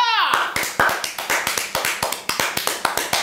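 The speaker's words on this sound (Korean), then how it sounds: "박수!" A small group claps steadily in a home setting after tasting air-fryer pork belly, a quick run of sharp, close hand claps following a brief voice at the start.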